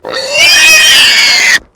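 A piglin grunts in a Minecraft-style video game, one loud, close, nasal snorting call lasting about a second and a half that ends abruptly.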